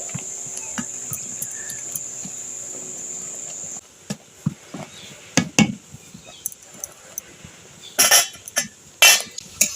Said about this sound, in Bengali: ডাল ঘাঁটার সাহায্যে আমি আমগুলো ভালোভাবে ঘেঁটে নেব।